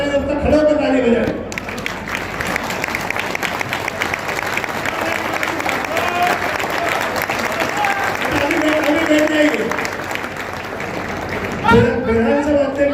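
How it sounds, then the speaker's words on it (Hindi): Sustained audience applause at a Madhya Pradesh working journalists' association convention in Morena, a loud steady wash of clapping from a large crowd, with a voice speaking briefly at the start and end. "मुख्यमंत्री जब तक जाए घोषणा लगाए, तब तक खड़े होकर ताली बजाए"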